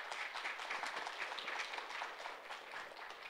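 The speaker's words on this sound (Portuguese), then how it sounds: "Uma salva de palmas para elas também." An audience at an architecture lecture applauds steadily and evenly throughout, a dense, fairly faint and somewhat distant patter of many hands with no voices standing out.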